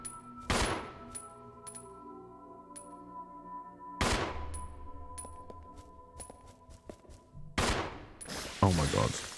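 Gunfire in the video game Resident Evil 0: three loud, close blasts spaced a few seconds apart, each with a ringing tail, the last followed by rapid clattering, with a player's voice talking between shots.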